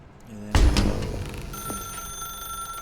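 An old-style telephone bell rings in a dark room in The Stanley Parable Ultra Deluxe video game, a sudden loud jangling burst that rings on with a steady metallic tone, under a low hum.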